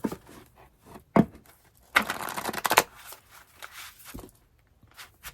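Tarot cards shuffled by hand at close range in a quiet room, giving a few short riffling bursts and soft card taps with a longer flurry in the middle.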